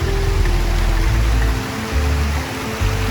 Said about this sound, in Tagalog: Ayun na, lumalakas yung ulan.